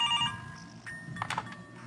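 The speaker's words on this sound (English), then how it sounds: "The phone." A telephone rings faintly in a quiet room during a Mr Hopps Playhouse game, with a few repeating electronic trills over a low background rumble.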